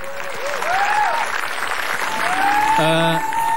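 Studio audience applause on an Indonesian comedy talk show, continuous dense clapping with a few whoops and cheers rising above it, and a voice speaking briefly near the end.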